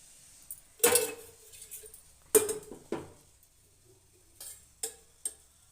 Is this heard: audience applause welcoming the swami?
no